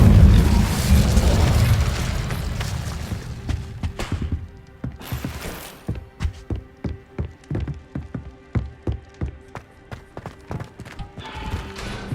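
Incendio fire spell cast in the Hogwarts Legacy video game: a loud, roaring burst that swells at the start and fades over about four seconds, followed by a steady, rhythmic run of clopping impacts.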